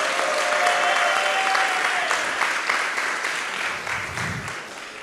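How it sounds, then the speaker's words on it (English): A hackathon audience applauds the team members during the final presentations, with a full, sustained wash of clapping at moderate distance that gradually eases off toward the end. "let's clap your hands for Lugama, Wilson, William, Andre,"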